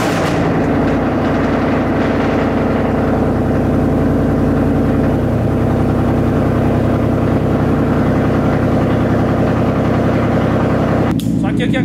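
A Ford Mustang engine runs loud and close with a steady, deep idle rumble that holds for about eleven seconds before abruptly cutting off near the end.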